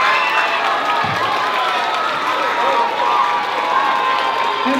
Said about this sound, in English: Can we give your classmates a round of applause?